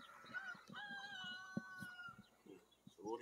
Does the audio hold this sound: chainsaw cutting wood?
no